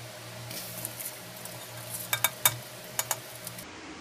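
Rice is tipped into boiling milk in a pressure cooker, producing a soft pour and sizzle, then a few sharp metallic clinks of a spoon against the pot over a low bubbling hum.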